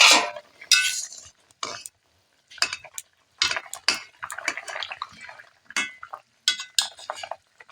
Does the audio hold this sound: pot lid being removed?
yes